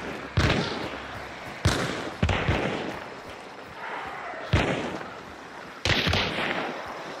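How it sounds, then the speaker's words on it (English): Chaos bomb blasts in a bounty-hunt video game: five loud, sharp booms spaced a second or two apart, each trailing a crackling, sparking rumble, with no talk. "That's a chaos bomb?"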